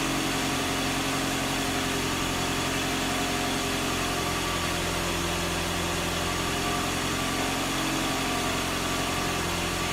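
A 2005 Scion xA engine, warmed up, idles steadily with a constant low hum and vibration, close and unchanging for the whole stretch, with no voices.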